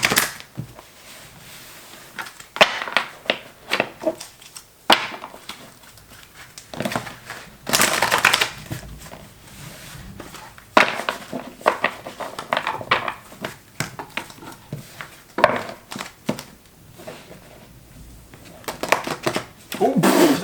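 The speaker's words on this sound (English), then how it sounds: "I'm becoming a pro at shuffling like this" Tarot cards are shuffled in repeated bursts of crisp riffling and crinkly card noise, loud and close, separated by short quieter pauses.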